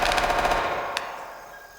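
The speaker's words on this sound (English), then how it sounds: "A lot of gunfire." Video game gunfire: a rapid automatic burst of shots up close, then a single sharp distant crack as the sound trails away.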